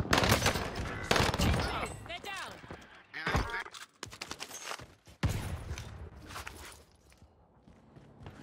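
Bursts of automatic gunfire in Call of Duty on Rebirth Island with an MP40, loud rapid volleys in several clusters separated by short pauses, with voices and in-game announcer lines over them.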